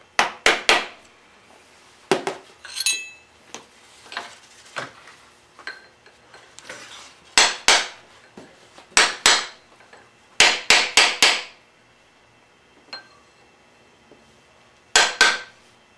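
Sharp metallic hammer blows flattening a bent tab washer on a BMW F650GS motorcycle, struck in irregular clusters of close, loud taps with quiet gaps between, no speech.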